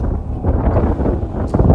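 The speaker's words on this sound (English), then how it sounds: "it's so windy" Loud, heavy wind roars and rumbles against the microphone, a constant low buffeting with brief stronger gusts.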